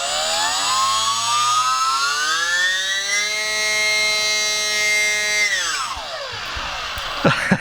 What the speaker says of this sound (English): I love that nasally sound that motor makes